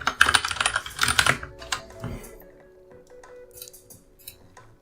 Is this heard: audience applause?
no